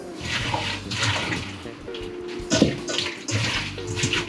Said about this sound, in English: and rinse some cold water. We're gonna clean it, also wash it a little bit